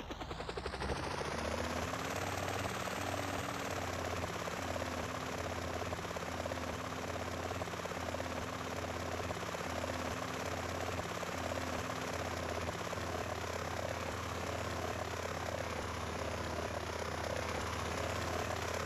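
Helicopter rotor and engine drone in GTA San Andreas, a loud, steady whirring hum that holds constant throughout with no pauses.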